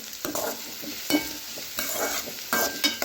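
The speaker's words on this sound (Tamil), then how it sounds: "பச்சை மிளகாய் சேர்த்து விட்டு நம்ம வதக்கி விட்டுக்கலாம்" Onions and green chillies sautéing in a pan, a soft steady sizzle broken by repeated scraping stirs, close and fairly quiet, with no talking.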